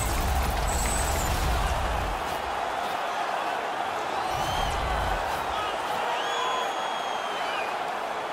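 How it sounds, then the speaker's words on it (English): Stadium crowd noise in the NHL 20 video game, a San Jose Sharks versus Tampa Bay Lightning alumni game, a steady roaring cheer with whistles and whoops, loud and sustained. "the crowd back alive here inside the stadium"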